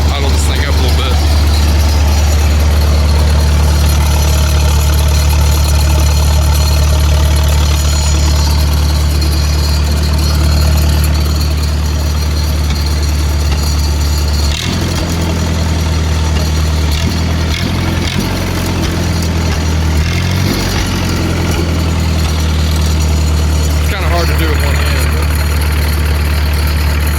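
A Lincoln SA-200 welder engine running steadily at idle, a loud, close, low rumbling drone that shifts and rises partway through as the throttle is brought up, with a voice speaking briefly.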